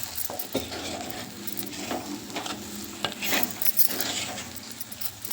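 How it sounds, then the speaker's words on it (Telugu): A spoon stirs moringa leaf and moong dal curry in a pan, giving steady scraping and clinking against the metal with a soft sizzle underneath, close and continuous, with no talking. "మనం మంచిగా కలిపేసుకోవాలి లేదంటే అడుగంటుతుంది"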